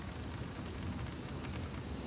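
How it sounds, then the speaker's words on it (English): Pouring rain and wind in a video game scene at sea, a steady dense wash of noise with a low rumble, even and continuous throughout with no voices. "the indistinct noise that is the pouring rain, the wind, and the churn of the sea"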